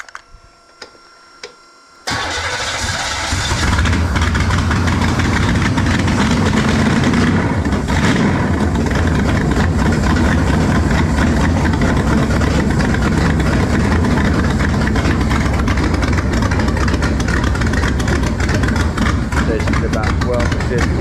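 An engine on a two-barrel carburetor idles steadily and fairly loudly in a workshop test run after a brief quiet start, with a continuous rough mechanical rumble throughout.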